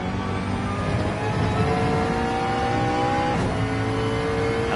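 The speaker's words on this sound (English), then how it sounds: "really wringing the neck out of that McLaren" A McLaren GT3 race car engine screams at high revs in a racing game, a loud, steady, sustained whine with shifting pitch as the car is pushed hard.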